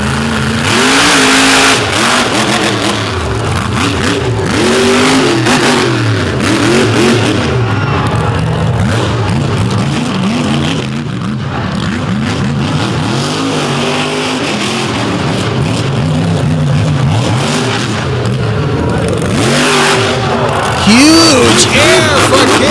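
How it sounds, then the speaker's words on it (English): Monster truck with a big-horsepower engine revving hard through a freestyle run at a Monsters 'N' Megas show in West Lebanon, loud repeated roaring climbs and drops in pitch with crowd noise and an announcer talking over it. "let's see what he can do with the Richard Midget horsepower inside this machine"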